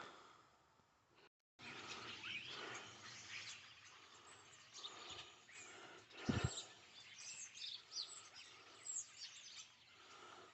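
A flock of starlings chatters continuously from a roadside hedge, a dense, busy wash of chirps and whistles heard from a short distance outdoors, fairly steady with occasional louder calls.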